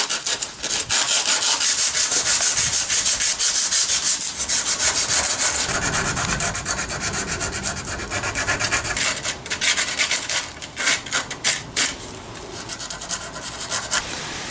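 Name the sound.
sanding Mercedes-Benz R129 muffler tips with 40 grit sandpaper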